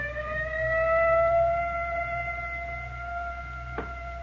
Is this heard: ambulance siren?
yes